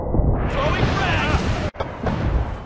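A frag grenade blast in Battlefield: Bad Company, a loud sustained roaring boom filling the mix, broken by a sharp cut and followed by more rumbling battle noise, with voices in the background.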